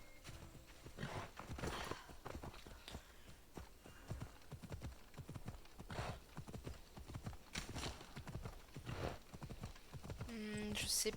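A video game horse gallops with a steady, fast clip-clop of hooves across mountain terrain, with continuous game ambience and no talking.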